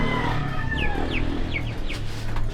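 Chickens cluck and chirp softly nearby over a steady background rumble, with a few short calls scattered through.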